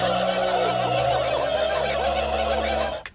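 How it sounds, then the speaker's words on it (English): Cartoon turkeys gobbling together in a South Park parody of a rousing leader's speech, a dense, continuous chorus of warbling gobbles that stays loud and close before cutting off abruptly at the end. "showing the turkeys themselves being given a gobbly speech by their leader"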